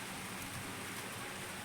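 Steady rain pours down, a soft continuous hiss of drops on surfaces that stays even and fairly quiet throughout, with no voices.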